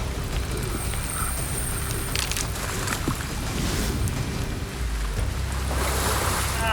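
Large paraiba catfish splashing and thrashing at the surface while being reeled in on a river in caiman territory, a continuous churning wash of water with wind noise on the microphone and no talk.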